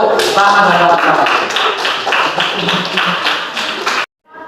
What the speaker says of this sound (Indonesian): Tepuk tangan untuk Rahman dan kawan-kawan.